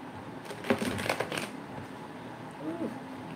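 A deck of tarot cards riffled in a short, close shuffle, a quick burst of flapping card edges, followed by a moment of quieter handling as a voice briefly speaks.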